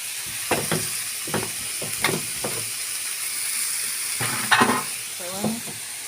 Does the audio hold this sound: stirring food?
yes